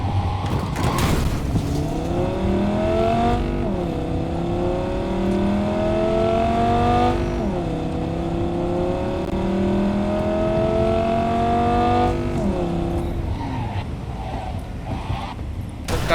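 Car engine in the video game Cyberpunk 2077 roars at high speed, its pitch climbing steadily and dropping with each gear shift in repeated cycles, loud and continuous throughout.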